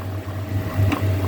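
Traditional Chinese soup bubbling as it boils in a pot in Hong Kong, with little water left; a steady low rumbling boil continues alone at close range, swelling slightly toward the end.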